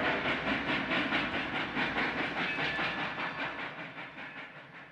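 A train rolls past close by with a steady, loud rumble and hiss, faint clickety-clack riding over it and fading slightly toward the end, no voices.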